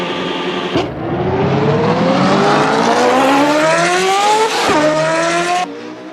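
Small race car in a racing sim game, its engine climbing steadily through the gears with brief shift breaks, loud and close, with tire noise underneath and no talk.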